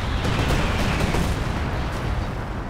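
Dense, continuous rumble of bombs bursting in Company of Heroes 2, a steady wall of booming explosions with crackling blasts layered on top, loud and unbroken throughout with no voices.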